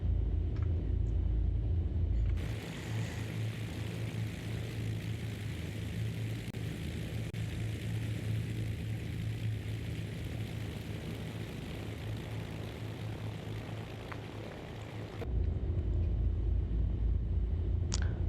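Twin-engine Beechcraft Baron BE58 taxiing in the X-Plane 12 flight simulator, a steady propeller drone and low engine rumble that holds constant for several seconds, bracketed by a louder, deeper engine tone at start and end.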